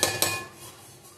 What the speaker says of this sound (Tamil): நான் லைட்டாக கிண்டி விட்றேன்